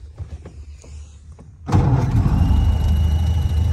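A 1931 Ford Model A Fordor sedan engine cranks on its starter button and fires up, catching suddenly into a loud, steady idle after a moment of quiet cranking.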